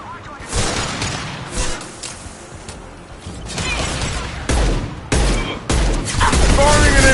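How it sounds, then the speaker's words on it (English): An impact gun fires in the Mass Effect video game amid a loud, chaotic fusillade of booming shots and blasts, with voices talking over the battle. "Firing an impact gun!"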